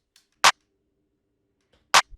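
Two sharp, snappy clap drum samples hit about a second and a half apart, each a crisp noisy burst that stops abruptly, loud and dry against silence.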